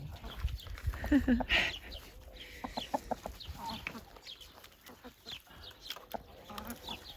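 Chickens cluck and squawk in short bursts close by on a farm in the Algarve, Portugal, with scattered farmyard noise and a faint voice in the background.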